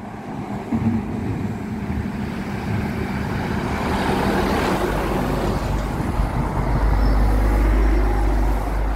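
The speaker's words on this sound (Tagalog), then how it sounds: "Mga dagko kaayang truck oh." Big trucks pass on a road near Kaiserslautern, Germany, a broad rumble of heavy engines and tyre roar that swells and builds toward the end, loud and close with no talking.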